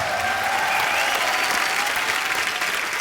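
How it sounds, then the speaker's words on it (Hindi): Dense studio audience applause on the set of a Hindi TV comedy talk show, loud and sustained throughout as a continuous wash of clapping with crowd noise. "जोरदार तालियां हो जाएं।"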